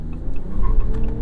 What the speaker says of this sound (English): you barely feel revving up because it's such a nicely balanced inline 6